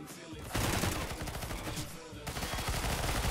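Rapid bursts of automatic gunfire crackle continuously in a CS:GO match, dense and sustained across the whole moment, with a faint voice underneath.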